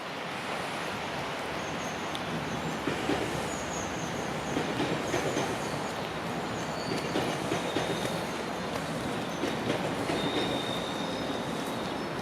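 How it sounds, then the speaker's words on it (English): Commuter train heading into Union Station in downtown Toronto on a rainy day, a steady rumbling pass with high wheel squeals and faint clickety-clack, fairly close and continuous throughout, with no talking. "Look at that commuter train heading into Union Station, just down the line."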